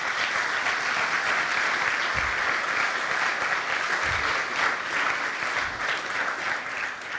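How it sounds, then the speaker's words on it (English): A conference audience at the CyCon 2018 cyber defence event applauds former Estonian president Toomas Hendrik Ilves in a dense, steady roar of clapping that fills the hall, sustained and loud without voices. "So please applaud President Toomas Hendrik Ilves here in the front line."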